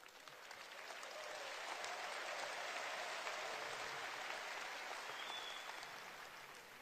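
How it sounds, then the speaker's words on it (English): An audience at the FutureNet World Convention in Macau gives itself a round of applause. The clapping is steady and fairly distant, rising over the first second and easing off toward the end. "Give yourselves a round of applause."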